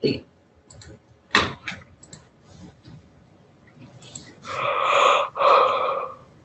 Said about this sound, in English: Somebody yawn. Who yawned?